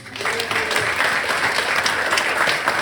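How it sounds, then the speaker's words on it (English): Sustained applause from a stand-up comedy audience in the UK, a dense, even patter of clapping that holds steady from start to finish. "That deserves a round of applause. Go on, keep that going."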